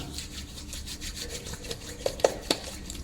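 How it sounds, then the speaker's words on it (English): Thick pasted molding wax is worked between two palms, making a steady soft rubbing and squishing texture up close, with a few sharper sticky smacks near the end and no talk. "if I work it into the hands and get the wax nice and warm"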